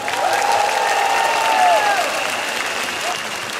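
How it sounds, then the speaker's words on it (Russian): An audience at a dance marathon in Luzhniki, Moscow applauds continuously, a dense, loud wash of clapping, with a voice briefly ringing out above it. "Поаплодируйте сами себе!"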